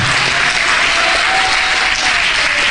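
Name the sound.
congregation applause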